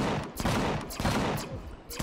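Rapid gunfire in Empyrion Galactic Survival, a dense fusillade of loud overlapping shots in bursts with brief gaps, close and dominant with no voice over it.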